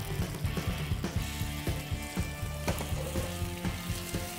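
Cherries frying in hot melted butter in a pan during a cooking demo, giving a steady, dense sizzle with rhythmic clicks and scrapes throughout, close and fairly loud with no talking.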